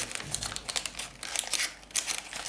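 Wrapping paper rustles, crinkles and tears as it is scrunched around a gift bottle for Valentine's Day, a close run of irregular crackling bursts with short pauses between.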